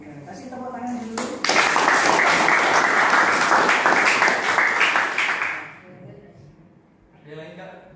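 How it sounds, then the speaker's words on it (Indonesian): Audience applause bursts in after a brief voice, holding loud and dense for about four seconds at a classroom teaching assessment session, then fading as someone starts speaking again. "Kasih tepuk tangan dulu."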